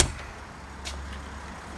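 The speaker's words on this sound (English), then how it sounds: "Close all these doors up." A camper vehicle's door swings shut with a single muffled thud partway through, set against a low, steady rumble and no talking.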